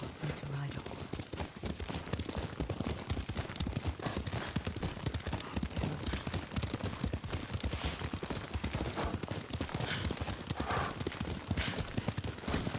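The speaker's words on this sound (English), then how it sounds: "Lord Sakai taught me to ride a horse." Galloping horse hooves in Ghost of Tsushima on PlayStation 4 pound in a fast continuous rhythm, loud and close, with game music and a voice mixed underneath.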